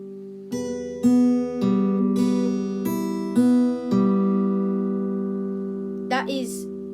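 Guitar plays a song intro: open strings picked one after another in a steady arpeggio, each note ringing into the next, clean and close, ending with a brief squeak of fingers on strings.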